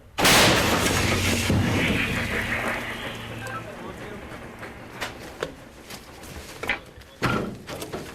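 A heavy, booming blast from a self-propelled artillery gun firing in combat near Vovchansk, Ukraine, opens the clip, followed by a long rumbling decay and scattered sharp clatters and knocks.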